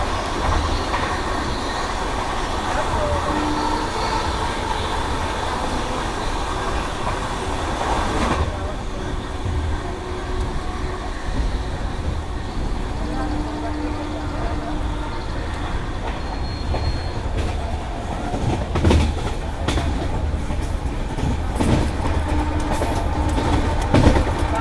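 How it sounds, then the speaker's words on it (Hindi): Passenger train rumbling and clattering steadily on the rails while overtaking the Rishikesh–Chandausi passenger train, with heavy continuous wheel and carriage noise heard from inside a general-class coach, swelling louder and more rattly near the end. "यहाँ पे ओवरटेक कर रहे हैं हम ऋषिकेश चंदौसी पैसेंजर ट्रेन को।"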